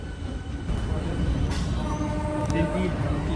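A passenger local train rumbles along steadily with a low, continuous roar and faint wheel squeals, curving left out of Krishnanagar City Junction toward Amghata, while a voice talks over the noise.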